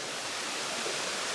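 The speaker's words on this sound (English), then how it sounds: "the addition of all the small water is the rush of the flow of much water there" Rushing water from the springs at Ikogosi, a steady broadband roar of flowing water that holds constant and fairly loud throughout, with no voices.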